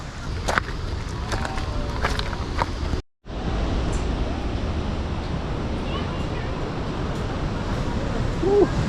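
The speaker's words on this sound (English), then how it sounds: "it was eroded by the river which is flowing, and I think you can hear it also" A river rushes through the Leutaschklamm gorge below a steel walkway, a steady broadband roar of flowing water with gusts of wind on the microphone and a brief dropout partway through.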